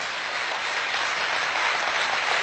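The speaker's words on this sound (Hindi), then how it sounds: "आपकी तालियां शहादत को शायद बड़ा करें।" An audience at a Hindi poetry recital applauds steadily, a dense wash of clapping that holds for a couple of seconds with no voices over it.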